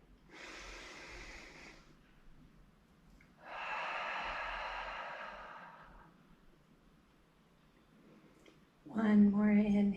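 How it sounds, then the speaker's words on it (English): Slow, deep yoga breaths during a gentle standing stretching flow: a long airy inhale, a pause, then a longer loud exhale, close and unvoiced, before a voice starts talking at the end. "Inhale, feel your belly expand. Big exhale, let everything go."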